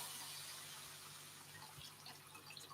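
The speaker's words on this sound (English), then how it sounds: "add some water." Water poured into a pan of lentils being cooked for a warm lentil salad, a soft continuous splashing pour at close range, fairly quiet, with faint bubbling toward the end.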